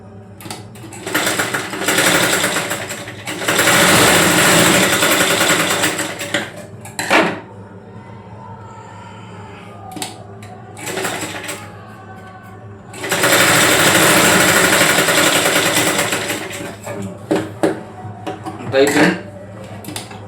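A sewing machine runs cross stitches to join the shoulder seams of a garment in two long, loud bursts separated by quieter stretches with clinks and handling noises.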